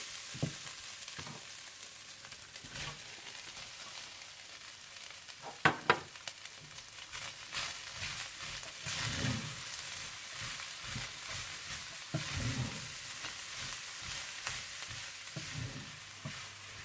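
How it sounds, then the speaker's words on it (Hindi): Minced meat and onion sizzle steadily in a pan while being stirred, with a continuous hiss broken by scraping strokes and a couple of sharp knocks of the spoon partway through. "और जब कीमा अच्छा सा भुन जाए तो आप इसमें प्याज डालकर अच्छी तरह से मिला लें।"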